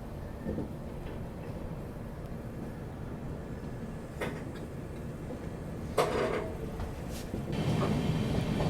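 A Delhi–Patna AC special train pulls away, heard from on board as a low, steady rumble of rolling carriages with a few faint clicks and knocks over the quiet hum.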